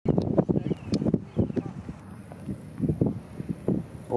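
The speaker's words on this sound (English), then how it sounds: "It's very, very windy." Strong wind gusting on the cliffs of Dover buffets the microphone with low rumbling bursts while people talk and walk along the clifftop.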